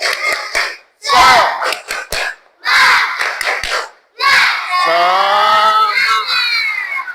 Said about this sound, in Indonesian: ayo sama-sama kita dulu tepuk semangat supaya semangat kita belajar